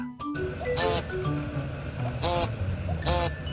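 A cat gives three short, nasal, honking cries spaced about a second and a half apart, each sounding oddly like a duck's quack.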